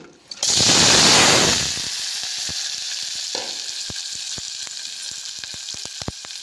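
Onions hit hot oil for a ponnaganti leaf curry, setting off a loud burst of sizzling that settles into a steady close fry dotted with small crackles and spoon taps.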